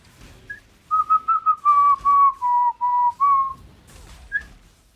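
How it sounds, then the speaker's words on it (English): A person whistles a short wavering melody of about a dozen clear notes, alternating drawn-in and blown-out breaths, close and loud with quiet gaps at either end. "I can do inhale and exhale whistling."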